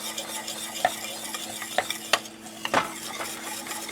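A spoon stirs baking powder, baking soda and salt into a pumpkin sheet cake batter. The soft scraping and sloshing strokes come up close and steady, with a few sharper clinks against the bowl, and no voice.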